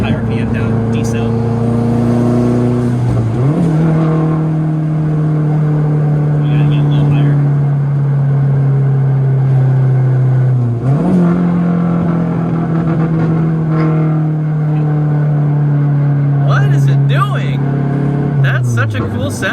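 Mazdaspeed 3 engine on a test drive, revving to high RPM and holding there, dropping away, then climbing and holding again before slowing down, loud and close, with people talking in the car.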